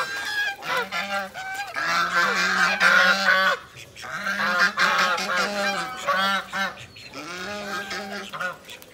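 Domestic ducks quack and honk loudly and repeatedly in bursts close by, a noisy flock of nasal calls with brief pauses, with no speech.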